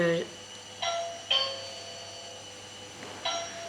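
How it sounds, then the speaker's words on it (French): A doorbell chimes several times in short electronic tones against a quiet indoor background, with a soft low hum underneath. "Ça, vous voyez, c'est la sonnette"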